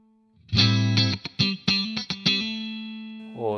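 Electric guitar played through a NUX Amp Academy amp emulator with a cabinet IR gives a loud, distorted, chorus-tinged tone: a held chord, a run of sharp rhythmic stabs, then a long decaying ring, with no talking.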